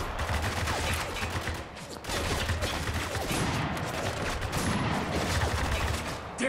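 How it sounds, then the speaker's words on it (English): Dense, continuous gunfire and bursts from a chaotic firefight in the video game Spec Ops: The Line, loud and sustained with overlapping shots and rumbling impacts throughout. "What's shooting us so hard?"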